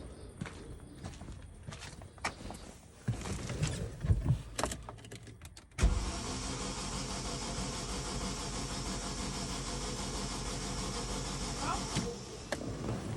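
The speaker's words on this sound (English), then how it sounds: "Let's crank the car." A petrol car engine with a misfire from bad fuel cranks and turns over, a sustained loud mechanical drone that kicks in abruptly after some light clicking and handling noises.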